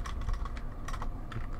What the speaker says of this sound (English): Hate typing on my gaming keyboard.